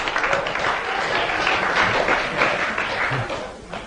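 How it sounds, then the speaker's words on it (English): Audience applause on a BBC radio comedy panel show, a steady broadband patter of many hands clapping throughout that fades slightly at the end. "Thank you for that applause."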